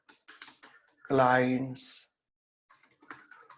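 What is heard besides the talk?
typing on a computer keyboard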